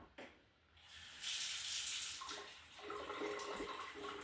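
Water poured from a watering can into a countertop herb garden, a steady splashing trickle that swells after a brief start and keeps running close by with no talk.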